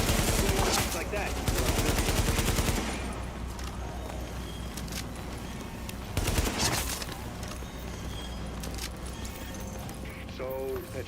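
Video game gunfire rattles in rapid loud bursts, densest at the start and again around the middle, with clopping, galloping sounds and people talking over the action.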